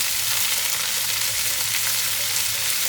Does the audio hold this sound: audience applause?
no